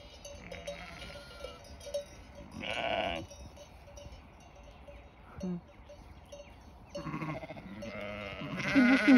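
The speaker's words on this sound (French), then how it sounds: "C'est les moutons ça mon grand" Sheep bleat several times at varying distances, some calls close and loud, with faint rustling and quiet background between them.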